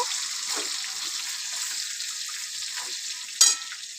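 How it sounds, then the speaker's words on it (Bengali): Onion frying in hot oil with whole garam masala and cumin, a soft steady sizzle with a few gentle stirring strokes and one sharp clink near the end, no talking. "এরপর পেঁয়াজ দিলাম এরপর একটু পেঁয়াজটা নেড়ে নেব"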